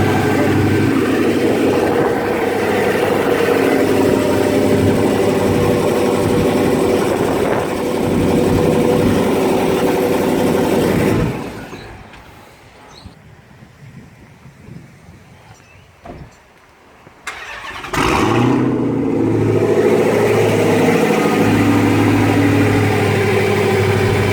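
A 2016 Dodge Hellcat with a BWoody intake roars on a dyno, a loud sustained full-throttle pull that suddenly drops to a low idle, then surges back up to a heavy roar.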